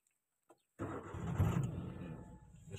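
A car engine cranks and catches during a driving lesson, then settles into a steady, fairly loud idle rumble that runs to the end.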